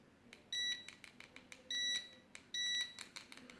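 Mestek DM91A multimeter giving continuity-test beeps as probes touch, three short high-pitched tones separated by faint probe clicks and tapping, fairly quiet and close.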